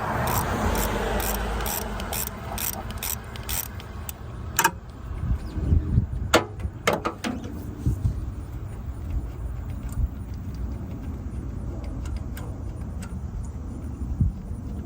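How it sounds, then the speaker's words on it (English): Ratchet clicks in short bursts while unbolting the AC idler pulley on a Honda Civic, close and fairly loud over a steady low engine-bay hum, with sharp metallic ticks clustered early and a few more later. "we're just going to go ahead and unbolt both sides here"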